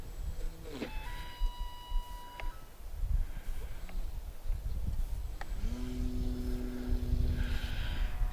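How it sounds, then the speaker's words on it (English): An E-flite Apprentice S 15e RC airplane taking off in a crosswind, its electric motor whining up in pitch and holding a steady tone as it climbs away, with wind noise around it. "I'm going to take off across the runway slightly"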